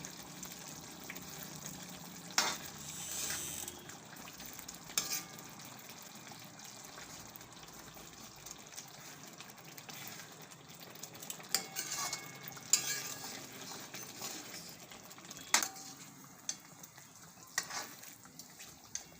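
Coriander stirred into a cashew garlic curry in a pan, with soft wet scraping and stirring sounds, a faint sizzle underneath and occasional louder clinks of the spoon against the pan.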